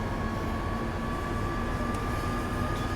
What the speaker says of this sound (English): There's a train.